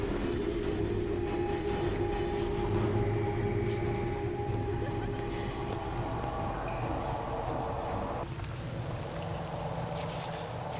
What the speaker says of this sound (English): Well, there's the tram.